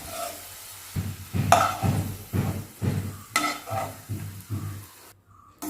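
Onions sizzle in ghee for an egg biryani while a spoon stirs and scrapes the pan in steady repeated strokes, close and moderately loud, with no talking.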